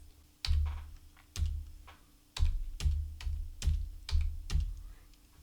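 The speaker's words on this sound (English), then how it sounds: "enter 7, and press on the Enter key repeatedly" A computer keyboard's Enter key pressed repeatedly, about eight distinct close, hollow clacks in an uneven rhythm, alone in a quiet room.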